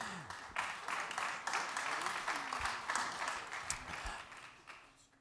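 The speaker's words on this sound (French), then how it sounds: "on peut applaudir Marie-Laure Denis qui est avec nous" Audience applause at a tech conference session on the French data regulator and AI, a dense crowd clapping steadily for about five seconds with some voices mixed in, gradually tapering off.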